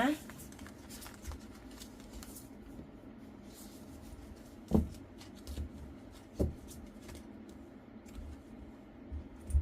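Tarot cards being shuffled with soft papery riffles and a few sharp taps, faint under someone talking steadily throughout.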